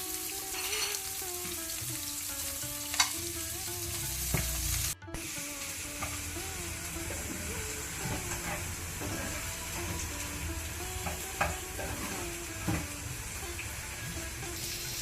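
Finely chopped onion fries with mustard seeds and curry leaves in a pan for stuffed brinjal, giving a continuous moderate sizzle with stirring taps and a short break partway through.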